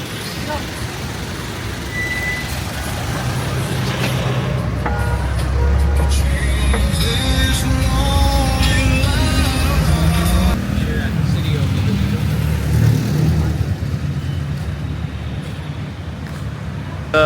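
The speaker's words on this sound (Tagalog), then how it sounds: "we're gonna take a jeep for the first time here in Iloilo" Riding a jeepney in Iloilo, a diesel engine drones and rattles steadily amid street traffic noise, with occasional passing vehicles and people talking over it.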